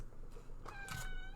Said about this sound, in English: Guest starring cat.